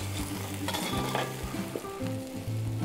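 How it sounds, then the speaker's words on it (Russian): Cooked rice and vegetables being stirred together for a meatless pepper stuffing, a close, continuous sizzling hiss with soft scraping movements and a faint low hum underneath. "Перемешиваем рис с овощами тщательно."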